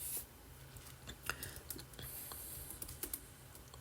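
Quick, light clatter of keys on a computer keyboard, irregular taps close by and quiet, typing a command with no voice over it.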